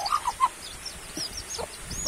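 A mother hen clucks in a few short, soft calls near the start, followed by faint peeping and rustling at a modest distance in a quiet farmyard.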